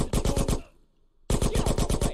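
Rapid automatic gunfire in GTA San Andreas on PS5, two loud close bursts of evenly spaced shots separated by a brief pause.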